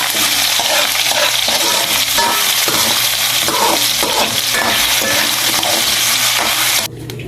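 Potatoes sizzling in hot oil while being stirred, a loud continuous frying hiss with repeated scraping and clattering of a utensil in the pan, dropping off abruptly near the end.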